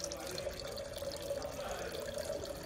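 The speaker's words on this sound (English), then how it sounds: "So open this, some water will fall down," Water draining steadily inside a fluid friction apparatus after a valve is opened, a continuous close rushing flow with a constant hum throughout, under faint speech.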